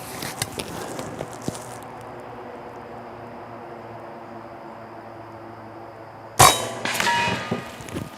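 A .25 caliber PCP air rifle shot strikes a cinder block backed by steel, one sharp loud crack with a brief metallic ring and scatter, after a long quiet stretch of faint outdoor hum.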